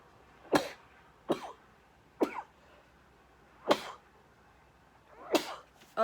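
Six short sharp sneezes, spread irregularly and fairly quiet, each a brief burst of breath in an otherwise still indoor room.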